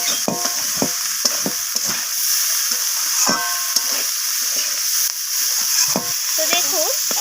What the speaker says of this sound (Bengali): তো চিনি আর ধনিয়া পাতাটা দিয়ে আমি আবারও নাড়াচাড়া করে এইভাবে মিশিয়ে নিয়ে আবারও আমি ভেজে নিচ্ছি এটাকে।